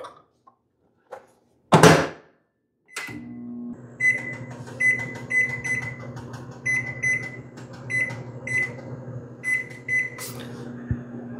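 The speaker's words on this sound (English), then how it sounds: "this nice little microwave that I use to heat up my food or my coffee" A small microwave oven heating coffee on a 12 kW inverter setup: a door clunk and button beeps, then a steady low hum with a fan whir, overlaid by a series of short repeated beeps, all close and clear.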